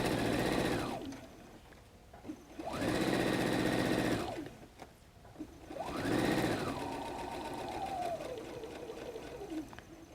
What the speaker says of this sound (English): Since this is a basting stitch, you just don't want to go over that ½ inch line